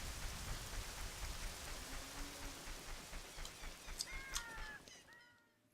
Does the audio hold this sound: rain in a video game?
yes